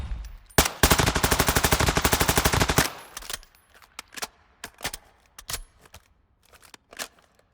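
Rapid automatic gunfire from an M16-style 5.56 rifle in Call of Duty: Modern Warfare II, a loud sustained burst of about two seconds followed by scattered single shots and sharp clicks, with no talking.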